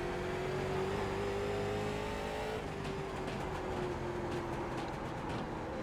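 A NASCAR late model in the iRacing sim at Hickory Motor Speedway drones loudly and continuously, its engine pitch holding, then sagging slightly as the car rolls through the corner.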